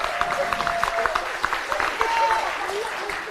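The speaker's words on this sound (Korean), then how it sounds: "우리 서범수 사무총장님께 힘찬 박수 다시 한번 부탁드리겠습니다" An audience claps for a party secretary-general at the opening ceremony of a women's politics academy in Seoul, a fairly dense patter of many hands with distinct sharper claps, some voices mixed in underneath.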